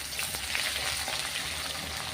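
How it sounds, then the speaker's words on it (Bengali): Chopped onions sizzle and fry in a pan as they turn golden for a village-style chicken curry, a steady soft crackle with no voices over it. "এই পেঁয়াজটাকে গোল্ডেন কালার করে ভেজে নেব"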